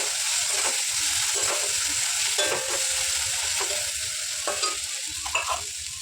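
Mushroom curry with ground cumin, coriander and pepper fried and stirred in a pan, close sizzling under repeated scraping strokes of a spatula at an uneven rhythm.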